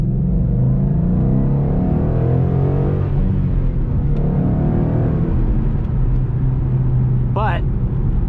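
A stock 2012 Ford Mustang GT with the 5.0 V8 accelerates hard from a standstill, its engine droning loud and steady from inside the cabin as revs climb through gear changes, with a voice heard over it.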